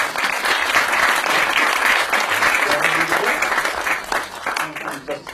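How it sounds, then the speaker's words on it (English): An audience at a mentalism show in a parlour breaks into loud, sustained applause, many hands clapping together, with a voice briefly heard amid it. "a round of applause for our first keeper of the box"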